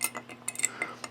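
A spoon stirs bourbon in a glass around a big ice sphere, making a few light, irregular clinks and taps against the glass, close and quiet, with no talking.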